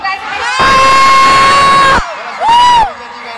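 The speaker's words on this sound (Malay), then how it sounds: "as you can hear, the crowd is already going crazy" A crowd at an underground music show cheers and whoops loudly for about one and a half seconds, falls quiet, then bursts into a second, shorter roar of shouting and cheering.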